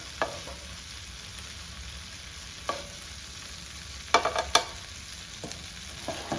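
Steak bites fry in garlic butter in a pan, giving a steady, fairly quiet sizzle broken by a few sharp utensil scrapes and stirs, with no talking.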